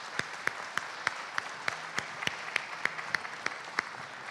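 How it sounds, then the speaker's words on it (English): Audience at a candidates forum clapping for the candidates: a rhythmic run of sharp, evenly spaced claps over a hiss of broader, softer applause, steady and moderately loud. "let's give these candidates a round of applause"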